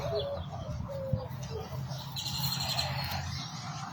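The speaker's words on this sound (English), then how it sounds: "As you can hear, we have a lot of native birds here." Several native birds chirp and whistle in short phrases at moderate distance in a small garden over a steady low outdoor rumble, with no talking.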